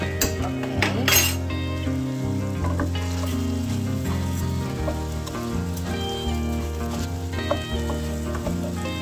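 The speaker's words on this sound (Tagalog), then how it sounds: "Igisa ko muna konti ang rice kasama sa kalabasa." Rice and pumpkin for risotto sauté in a pan with a loud, steady sizzle and frying crackle, with occasional clinks of a stirring utensil and no talk.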